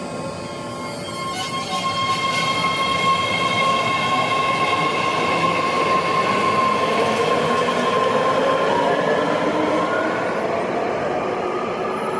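A passenger train rounds a bend with a steady metallic roar and a thin, sustained wheel squeal rising over the rumble, loud and close with no talk.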